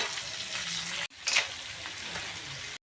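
Chopped onion frying in a rice cooker, a steady close sizzle with a brief break midway, then a louder burst of crackling as the onion hits the hot oil before it cuts off.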